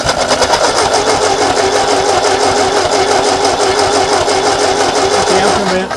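A 1939 Ford tractor that sat in a field for over 20 years cranks steadily with a fast, even mechanical rhythm, loud and close, with brief firing as the engine turns over before stopping near the end.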